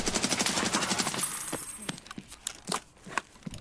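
Rapid automatic gunfire in the Escape From Tarkov video game's Labs map, a fast, even burst for about a second and a half, followed by a few scattered sharp shots and crackles, close and loud.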